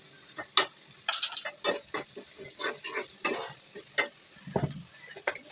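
Onions frying in a pan as turmeric powder is added: a soft sizzle under repeated sharp scraping and clacking of a spoon stirring against the pan, close and irregular, with no speech.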